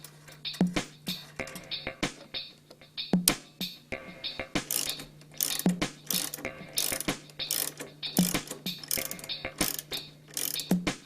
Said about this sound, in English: Attach washer and locking hex nut to the end of each threaded rod and tighten using a vice grip